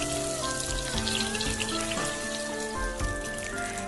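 Firm tofu slices sizzle and crackle in hot oil in a pan over medium heat, turned partway through; a steady, close spatter runs throughout beneath background music, with no talking.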